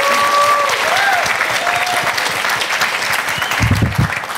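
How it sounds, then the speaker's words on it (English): An audience at a conference panel applauds in a dense, steady burst of clapping that fills the room, with a few faint voices beneath and a low thump near the end. "I'm loving this applause that we've got going."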